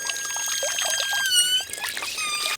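Water pours and trickles from a garden hose as it is taken loose from a garden watering setup, a steady splashing, dribbling flow close by with bright bird-like chirps over it.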